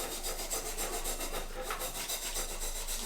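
A steel file is scrubbed back and forth along its grain to clear out gunk, a continuous close rasping rub with a gentle repeating stroke rhythm and no talking.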